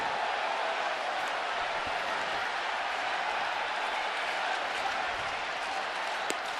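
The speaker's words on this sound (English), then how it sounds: "this sounds like a college crowd here. Sounds like a bowl game. Half the stadium orange, half red, shouting each other down" A baseball stadium crowd at a Baltimore-at-Washington game roars and shouts in a continuous dense wash of cheering, loud and unbroken throughout.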